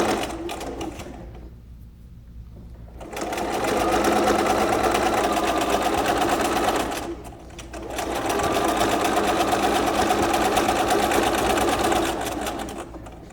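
Domestic sewing machine stitching through a flannel rag quilt, running in two long steady bursts of loud, fast mechanical whirring with a brief pause between them.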